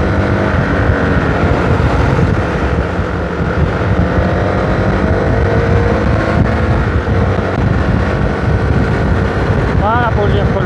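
A Zontes T310 motorcycle engine drones steadily while riding, loud and continuous under heavy wind rush, with a brief rising pitch near the end as the throttle opens.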